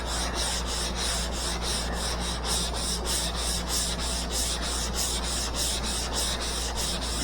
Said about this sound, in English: And then I'll just come in and I'll sand that edge or whatever